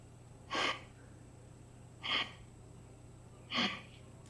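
Three forceful breaths pushed out from the diaphragm during a core and breathing exercise, evenly spaced about one and a half seconds apart, each a short breathy whoosh over a low steady hum.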